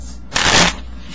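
A deck of playing cards being shuffled in one quick riffling burst, close and fairly loud against a quiet background.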